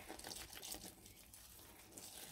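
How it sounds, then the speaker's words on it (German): Water poured onto terrarium soil, a soft, steady trickle and splash at low volume, fading slightly midway, with no talking. "Da machen wir ein bisschen Wasser."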